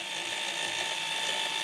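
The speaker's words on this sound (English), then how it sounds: "this is just a very small, slow speed drill. It's perfect for this, and this is going into a hardened block." Small slow-speed drill boring a pilot hole into a hardened block: a steady, continuous whine and grind at close range that holds even throughout, with no talk.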